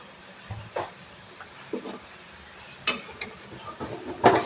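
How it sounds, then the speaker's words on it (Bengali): Chitrokut misti, Bengali dough sweets, frying in hot oil over a medium flame, giving a low, steady sizzling hiss broken by a few short, louder bubbling bursts. "তো এটা তেলে ভেজে নিচ্ছি"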